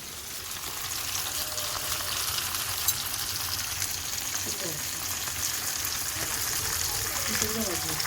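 Fish frying in hot oil with a masala coating for a Mangalore-style fry gives a steady, broad sizzle throughout, with a few soft clinks and scrapes partway through and faint talk in the background.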